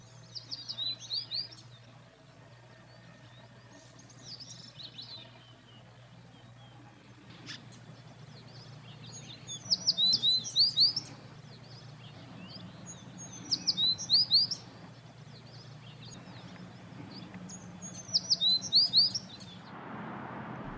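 An American tree sparrow in interior Alaska delivers repeated bright, high, twittering song phrases every few seconds, fairly close, over a low steady hum.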